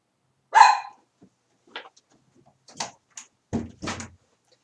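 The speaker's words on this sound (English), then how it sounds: "excuse my dog, Pepper, outside the bark!" A dog barks outside, a few separate sharp barks spaced out over several seconds, fairly faint and distant, with no talking over them.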